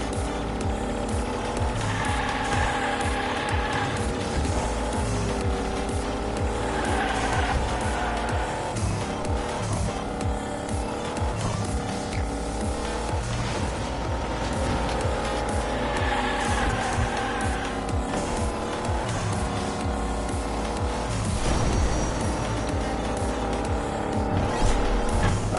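In the Hot Wheels Unleashed racing game, a toy car drifts around the track under a dense, continuous engine roar, with repeated tyre squeals layered through a steady game soundtrack.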